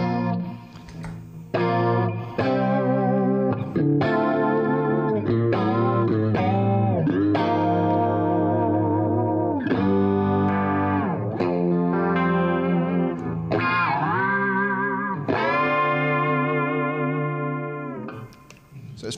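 A full-on high-gain electric guitar tone from the Guitar Valley Pro's humbucker plays chugging rhythm chords and sustained notes for nearly twenty seconds, loud and continuous with a chorus-like shimmer and no talking.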